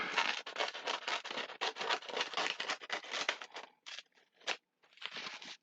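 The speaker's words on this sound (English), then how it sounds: "I'm going to take some of the nori and we're going to cut the strip" Scissors cut a strip of nori for a bento, a dense run of close, crisp snipping and crinkling cuts that pauses briefly near the end before a final burst, with no talking.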